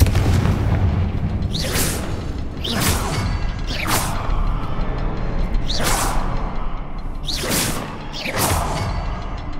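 Repeated Confringo fire-spell blasts in Hogwarts Legacy, five whooshing booms landing roughly every two seconds, each a loud burst with a fiery rush that fades before the next, inside a mine.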